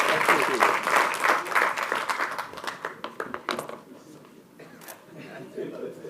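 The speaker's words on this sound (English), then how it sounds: "please give a round of applause for our delegation from Ghana" Applause for a visiting delegation at a corporate capital markets day, dense clapping that thins out over several seconds, with voices talking over it near the end.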